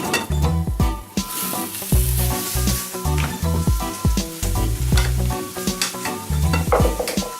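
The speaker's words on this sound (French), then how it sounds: "Le but c'est pas trop de les faire cuire, c'est juste de les faire sauter un petit peu" Vegetables sautéing in a hot pan, loud close sizzling broken by repeated rhythmic stirring scrapes and clanks of a utensil against the pan, with no talking.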